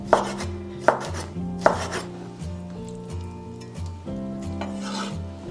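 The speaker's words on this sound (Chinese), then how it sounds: "我们就可以改刀给它切成细长条" A knife chops braised pork into long thin strips on a board with three sharp, loud strokes near the start, over a steady backdrop of tonal music.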